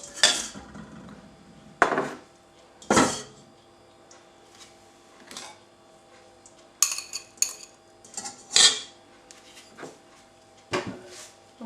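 Two whole eggs and two extra yolks are mixed in a bowl with a utensil for a chocolate fondant, giving scattered close clinks and knocks against the bowl between quiet pauses.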